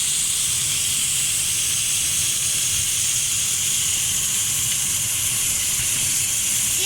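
A keto beef burger patty sears in a pan at the highest heat, making a loud, continuous hiss that holds steady from start to finish with no voices.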